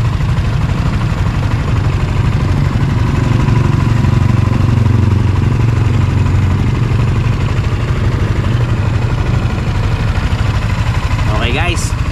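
A 2023 Yamaha Sniper 155R motorcycle engine runs steadily and close with a loud, throbbing rumble that holds throughout, and a short burst of voice comes near the end.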